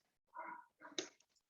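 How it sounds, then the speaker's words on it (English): Dogs whimpering faintly indoors during a home plank workout class, a few soft, whiny cries in short bursts against near silence. "Sorry about the dogs."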